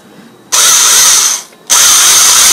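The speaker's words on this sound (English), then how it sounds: "Go ahead and drill the holes." A power drill bores holes through acrylic plexiglass for a cosplay back plate, two loud, high-pitched whining bursts of about a second each separated by a short pause.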